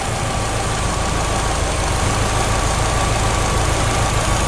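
A Subaru engine idles with a steady, even drone as cleaner is sprayed into the intake, with a faint hiss sitting over the continuous hum.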